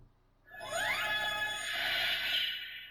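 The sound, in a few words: Kamen Rider Decade Ride Booker toy, world-travel sound effect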